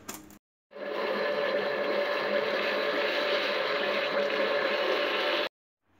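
Muffin batter with vanilla is beaten in a bowl, likely with an electric mixer, a steady whirring buzz that starts after a brief pause and runs for about five seconds before cutting off.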